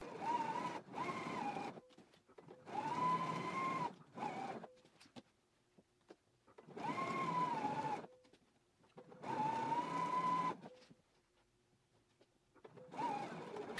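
A sewing machine edge stitches along the top of a waistband in five or six separate bursts of steady running with quiet gaps between, each run whirring at a near-constant pitch, close by.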